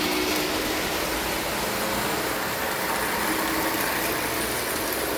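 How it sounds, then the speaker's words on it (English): A model work train engine crawls along in a very low gear, giving off a steady, rough motor drone like an old farm truck that holds at an even level with no talking. "Actually sounds like an old farm truck."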